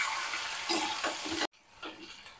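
Finely chopped tomato sautéing in a pan for a quick mushroom bhaji, a bright hissing sizzle with stirring that drops abruptly to a quieter simmer partway through.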